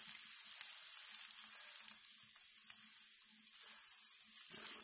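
Bread for a po' boy sandwich toasting on a hot griddle, a soft steady sizzle close by with faint crackles and no voices.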